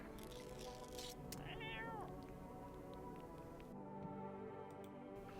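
A cat meows once in the No, I'm Not a Human video game, a clear rising-and-falling call over steady background ambience with faint ticking.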